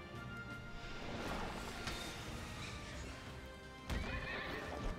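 Horse neighing in the video game Child of Light, a loud whinny with hoof clip-clop and game sounds around it, rising again near the end.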